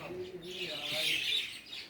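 Pet birds give brief high chirps and tweets at close range, quiet and short, with a voice faintly present beneath them.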